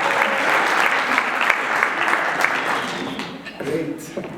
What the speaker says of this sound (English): Can you give him a better round of applause?